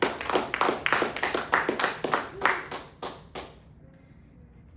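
A church congregation claps together during a Spanish-language sermon, a burst of sharp, fairly rhythmic hand claps that thins out and stops after about four seconds, leaving near silence.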